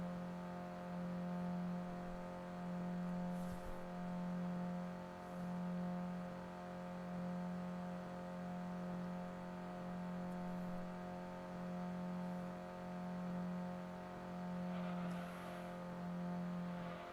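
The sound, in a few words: car engine revving in red zone, Gran Turismo 2 video game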